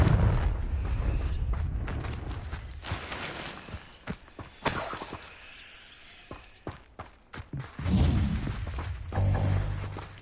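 A Confringo fire spell in Hogwarts Legacy erupts with a heavy blast, then a series of sharp cracks and smaller impacts, closing with another booming burst and rumbling tail.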